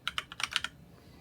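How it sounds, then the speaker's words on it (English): Computer keyboard typed in short bursts, roughly eight quick, soft key clicks in uneven rhythm while notes are entered into a log, fairly quiet and close, fading to faint room noise at the end. "I type into the notes field lowered power and click Record Meter Reading"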